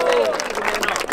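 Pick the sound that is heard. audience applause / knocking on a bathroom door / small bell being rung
audience applause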